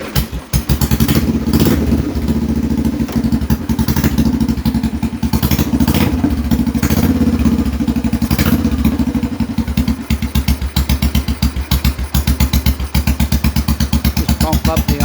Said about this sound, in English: Just pump up the idle a bit until it warms up. That was a cold start. Second kick.